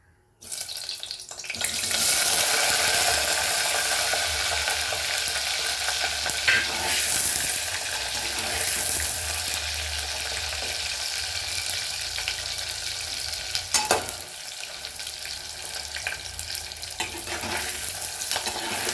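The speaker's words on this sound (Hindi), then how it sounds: "ये हमने पनीर को छोटे छोटे क्यूब में काट के रखा है, वो हम इसको फ्राई करेंगे" Small cubes of paneer frying in hot oil, heard as a loud, steady hiss and crackle that carries on throughout, with an occasional stirring knock, close by and with no voices.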